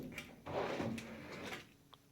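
Metal tool chest drawer in a craft room sliding open, one heavy scraping glide followed by a few light rattles and clicks, close and alone.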